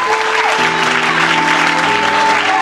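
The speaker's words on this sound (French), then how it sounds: "On acclame notre Seigneur." Steady, loud applause from a church congregation acclaiming the Lord, dense and continuous throughout, with a faint sustained tone underneath.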